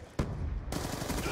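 MTAR assault rifle firing in a first-person shooter video game, a sudden dense burst of rapid automatic fire that breaks off briefly, then resumes continuously, loud and close.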